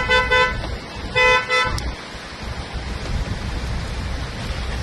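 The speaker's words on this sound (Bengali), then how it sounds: "আপনারা দেখতে পাচ্ছেন রাস্তাঘাটে অনেক গাড়িগুলা কিন্তু রাস্তাঘাট তলিয়ে গেছেন" Cars move through a flooded street during heavy rain in Jeddah, Saudi Arabia, giving a steady wash of traffic and water noise, with a couple of car horn toots near the start.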